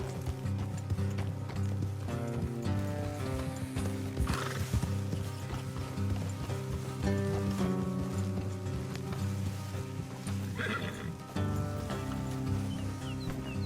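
Horses in Red Dead Redemption 2 whinny and hooves clop steadily over a constant layer of game music, with a couple of louder neighs standing out mid-way.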